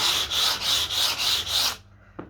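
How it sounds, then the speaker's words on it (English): A diamond rubbing pad smooths the edges of a piece in five quick, rhythmic back-and-forth rasping strokes, close and fairly loud, followed by a short pause and a faint tap. "This is a rubbing pad. When I'm finished, I tend to do the edges"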